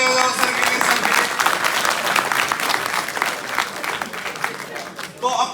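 Loud, sustained applause from an audience at a live comedy talk, dense clapping that fills the space and thins slightly toward the end, with no voices on top.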